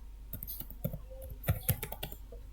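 Text being typed on a computer keyboard into pipe-sizing software, a quiet run of irregular clicking keystrokes with a few sharper taps, heard close and with no talking.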